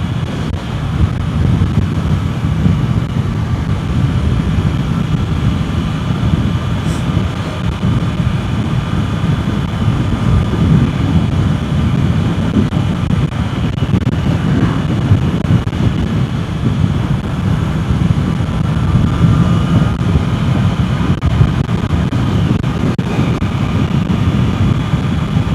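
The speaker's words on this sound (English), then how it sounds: "it's quite windy, so hopefully the mic is doing alright" Strong wind buffets the microphone on a Honda CB650R motorcycle riding at about 100 km/h on a rural Australian road, a steady loud roar that lasts throughout with no speech.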